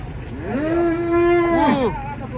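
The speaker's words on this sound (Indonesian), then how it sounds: "Kedatangan sapi langka ini unik." A rare giant cow being unloaded from a truck gives a single long, close, loud moo that rises, holds steady and falls away.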